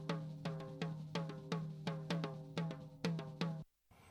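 A dry roto tom drum track in a rock mix, with a steady run of sharp, ringing tom hits in quick succession, close and unprocessed, ending abruptly.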